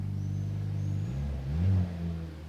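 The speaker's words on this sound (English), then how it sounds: "you already hear it from the outside that the exhaust" A Mercedes-Benz C43 AMG W206 from 2022, a four-cylinder car, idles with a low, steady exhaust drone heard from outside, then gives a brief rev that swells and settles.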